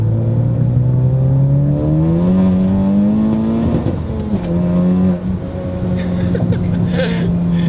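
A big-turbo Honda Civic Type R accelerates hard from inside, its engine note climbing steadily, dipping briefly at a gear change, then pulling again as exhaust burbles and pops crackle near the end.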